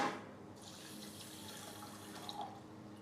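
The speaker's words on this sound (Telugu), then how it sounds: "ఇదిగో మంచినీళ్ళు నేను ఇందులో పోస్తున్నాను." Tap water runs steadily into a pot of rice being rinsed for cooking, a continuous close splashing flow with a brief stronger gush at the start and no talk over it.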